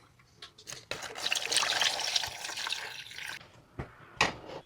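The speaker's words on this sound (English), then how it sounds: "I'm going to take the liquid left from the slow cooker and pour it over top of the rice" Leftover slow-cooker liquid is poured over rice in a pot, making a close, splashing trickle that swells and then tapers off into a few brief drips and clinks.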